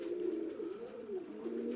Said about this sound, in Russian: вот этот второй голубь клюет